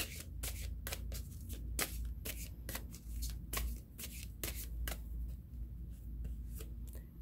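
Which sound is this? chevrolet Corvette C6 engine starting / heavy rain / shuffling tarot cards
shuffling tarot cards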